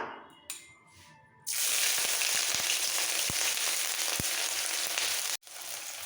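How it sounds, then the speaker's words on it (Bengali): Bay leaves and whole cumin hit hot oil in a pan, and a loud continuous sizzle starts abruptly and holds steady, with a few faint clicks and a brief dropout near the end. "বেশি করে তেল দিয়ে গরম করে নিয়েছি এর মধ্যে ফোড়ন দেব ছোট দুটো তেজপাতা গোটা সাদা জিরে ফোড়নটা একটু ভেজে নিয়ে"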